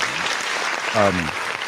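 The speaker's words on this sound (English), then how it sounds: "Can we get a round of applause?" Small studio audience clapping on a podcast, continuous applause with a brief voice cutting through in the middle.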